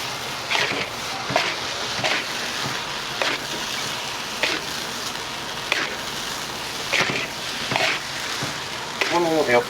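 A large batch of fried rice stir-fried with a shovel in a big pan at a Chinese noodle shop in Amagasaki: a steady sizzle with periodic scraping strikes of the shovel, near and fairly loud.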